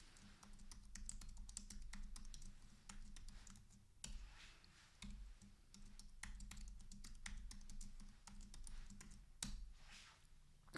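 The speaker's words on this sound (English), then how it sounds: "type in the password." Steady, fairly loud typing on a computer keyboard as a password is entered, a dense run of clicking keystrokes with a few brief pauses and no talking.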